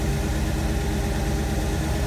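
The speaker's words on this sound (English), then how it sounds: "I've already had the engine idling for over 15 minutes or so earlier, and you can just hear a backfire" Engine of a 1973 International Scout II idling steadily with a low rumbling throb, loud and close throughout, with no distinct backfire pop standing out.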